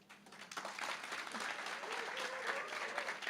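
A church congregation breaks into applause during a sermon, the clapping swelling quickly after a soft start and holding steady, with a faint voice or murmur under it.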